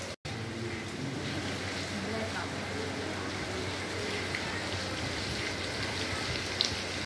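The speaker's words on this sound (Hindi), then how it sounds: "ज़बरदस्त बारिश हो रही है" Heavy rain falls with a dense, steady roar, close and loud throughout, in cold weather near a school.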